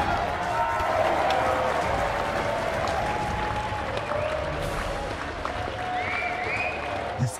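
A large crowd at a Nathan's Famous hot dog eating contest claps and cheers continuously after a record-setting finish, a dense, steady roar of applause with voices mixed in throughout.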